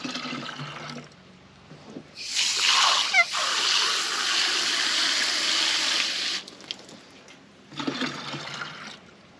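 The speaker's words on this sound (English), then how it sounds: "do a triple rinse" Water rushes into a sprayer tank during a triple rinse in a vineyard, a steady loud gush lasting several seconds, then a shorter burst after a pause.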